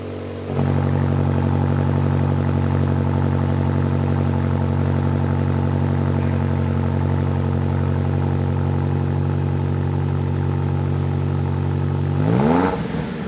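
A Land Rover Defender 110 OCTA off-road SUV engine idles with a deep, steady rumble, then briefly revs up near the end before settling back down.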